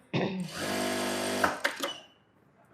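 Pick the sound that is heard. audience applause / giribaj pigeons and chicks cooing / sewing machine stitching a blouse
sewing machine stitching a blouse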